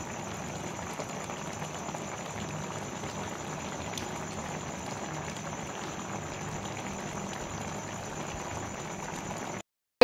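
Pot of tomatoes boiling for homemade chili garlic ketchup, a steady bubbling hiss and simmer with a faint high whine, continuous and even until it cuts out near the end.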